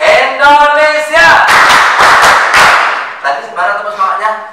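An audience at a public lecture in Indonesia performs the scout clap, a quick burst of sharp, rhythmic group claps in unison, framed by loud chanted voices before and after.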